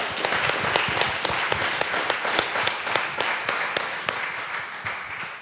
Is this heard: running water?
no